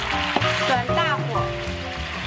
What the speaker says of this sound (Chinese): 快速翻炒，拌匀拌透就可以装盘了